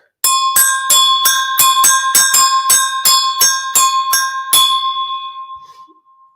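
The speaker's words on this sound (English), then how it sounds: "I've got my little agogo bells." Small metal bells struck in a steady, even rhythm, about a dozen clear bright clanks ringing close, the last one left to decay into silence.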